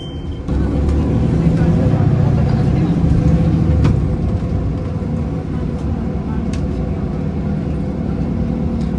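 A Toronto TTC city bus rolling from Pearson Airport's Terminal 3 toward Kipling Subway Station gives a steady low engine drone and road rumble inside the cabin, with a few faint clicks and people talking beneath it.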